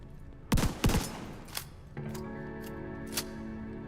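Sawed-off shotgun fire in the video game The Division 2, two sharp loud blasts in quick succession followed by softer mechanical clicks and a faint later crack, no talking.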